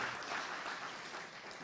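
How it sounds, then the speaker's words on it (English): Applause from the audience at a university venture fund pitch competition, cheering the incubation track competitors: a steady, fairly faint wash of many hands clapping, with no talk over it. "Let's give one more round of applause for all of our incubation track competitors"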